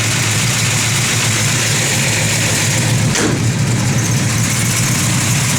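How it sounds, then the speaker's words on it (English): A 1967 Chevrolet Chevelle SS idles close by with an aggressive cam, giving a loud, steady, lumpy low rumble that runs unbroken throughout. "You can hear that cam working, nasty little cam in it."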